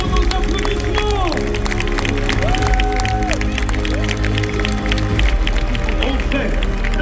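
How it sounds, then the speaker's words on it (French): Audience applause at the Parc Astérix diving show Les Plongeons de l'Olympe, a broad crowd clapping and cheering under amplified show music with a continuous announcer voice over it. "Synchronisons nos applaudissements."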